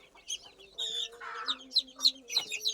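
Deshi hens on a small backyard farm cluck and chirp steadily, their short, fairly close calls coming in quick succession with a low rooster-like note partway through and no voices.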